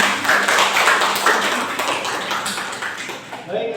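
Audience applause for a group's classroom presentation, a dense spread of hand claps that carries steadily across the room, loud and close, then thins slightly near the end.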